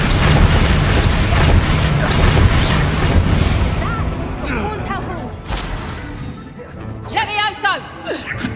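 Blasting spell explosions in the video game Hogwarts Legacy, heavy booming bursts with crackling debris over the first seconds, then fading into lighter magical effects, while a player calls out spell names loudly throughout.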